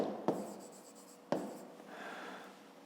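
A pen writes on paper while a maths exercise is worked, a soft close scratching with two sharp taps marking new strokes, quiet and without speech.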